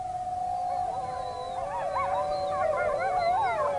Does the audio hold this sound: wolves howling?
yes